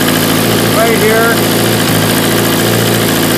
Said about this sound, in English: There's also a major exhaust leak right here that I wasn't aware of.